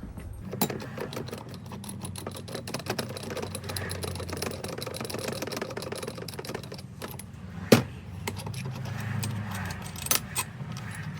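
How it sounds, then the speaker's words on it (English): Metal tool work on Suzuki DRZ 400 engine cases while removing a crank puller, with dense rapid clicking and rattling and one sharp metallic clank near the end, close-up with a low hum underneath. "So now what I'm going to do is I'm going to pull this crank puller off."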